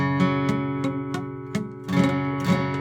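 An acoustic guitar barre chord, not pressed down hard enough, strummed repeatedly with a dull, buzzy, muted tone, several uneven strums over a sustained ring.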